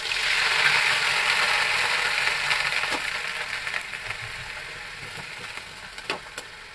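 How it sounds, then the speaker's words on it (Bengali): A paste of ground onion and cumin fries in mustard oil, with a soft, steady sizzle that slowly fades, broken by a few faint clinks near the end. "এই তো পেঁয়াজ বাটা দিয়ে দেবো, এটা সম্পূর্ণ পেঁয়াজ আর জিরা বাটা।"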